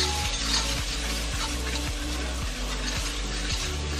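Garlic stirred and fried in a pan while cooking creamy Tuscan shrimp, a steady close sizzle with rhythmic spoon scrapes repeating about every half second, with no voices.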